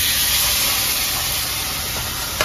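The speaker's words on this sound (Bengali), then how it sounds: "মাছ ভাজা শুরু হয়ে গেছে" Kalbosh fish frying in a pan, giving off a loud, continuous close-up hiss and sizzle with no breaks.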